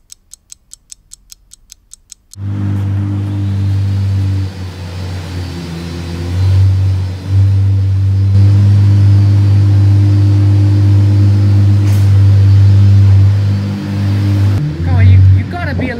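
A car engine starts after a few sharp clicks, then runs with a steady low rumble as the car pulls away in first gear. The engine note holds close and fairly constant, with brief swells, while people talk over it.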